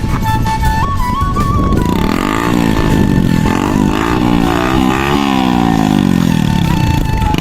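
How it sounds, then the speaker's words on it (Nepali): A motorcycle fitted with a loud homemade exhaust revs hard and pulls away, its engine note rising and falling through gear changes, loud and close throughout. "बाइक लिएर भाग्यो"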